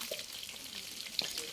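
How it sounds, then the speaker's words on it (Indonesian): Pre-cooked chicken pieces fry over a high flame in hot oil, giving a soft continuous sizzle with a few brief crackles, fairly quiet and close. "Digoreng di api api besar ya, minyak panas gitu."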